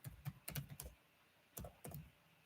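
Bursts of typing on a computer keyboard, quick clustered key clicks in two groups separated by a short pause, close and clear with no voices.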